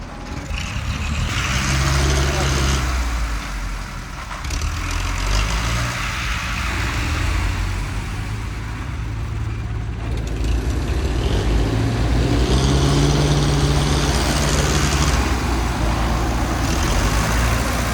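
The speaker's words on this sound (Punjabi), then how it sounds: "ਇੱਕ ਟਰੈਕਟਰ ਜਿਹੜਾ ਪਿੱਛੇ ਆ ਗਿਆ ਉਹ ਇਹਨੂੰ ਧੱਕੇਗਾ ਫਰੰਟ ਪਲੇਟ ਦੇ ਜ਼ਰੀਏ" A tractor pushes chopped maize silage along with its front plate, its diesel engine droning loudly and continuously with rising and falling revs and rumbling load throughout, no voices.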